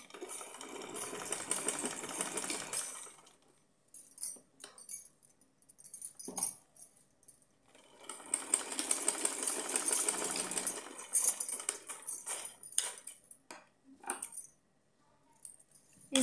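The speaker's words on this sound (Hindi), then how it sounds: "कट करने के बाद में इसको यहाँ से यहाँ तक हम थोड़ा सा तिरछा सिलाई लगा देंगे।" A sewing machine stitches a small doll's dress, a fancy choli for a Laddu Gopal idol, in two longer whirring runs separated by short clicks and pauses, close by with no voices.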